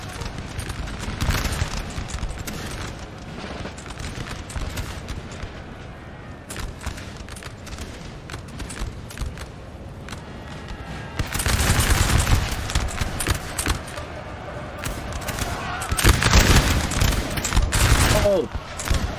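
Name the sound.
musket volleys firing in video game Napoleon Total War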